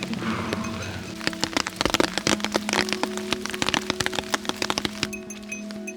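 Rain patters on an umbrella along the Kumano Kodo pilgrimage trail in Japan, with dense, irregular drops tapping sharply and close overhead against a steady wet hiss and no talking.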